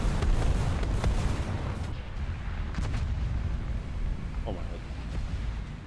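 Booming Tiger H1 tank cannon shots in a video game, a dense rumbling blast at the start with a decaying echo and further distant thuds, while a player exclaims over the battle noise.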